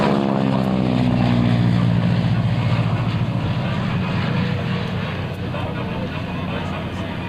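A loud, droning engine roar from an aircraft sweeping down the runway at an airshow, holding steady and close throughout with a slight shift in pitch.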